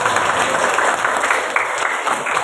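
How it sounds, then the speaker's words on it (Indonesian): Students in a classroom clap together in a dense, steady burst of applause, fairly close and without other sounds standing out. "Tepuk tangan semuanya."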